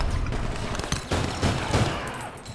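Rapid bursts of gunfire in the online shooter APB Reloaded, dense overlapping shots and automatic fire rattling steadily throughout with a few heavier cracks standing out.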